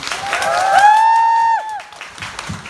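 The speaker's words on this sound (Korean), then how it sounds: "다 같이 박수 한번 부탁드립니다." An audience applauds after the final performance of a musical as cast and band come on stage. Brief clapping is topped by a loud, sustained whistle-like cheer that bends at its end, and then quieter clapping continues.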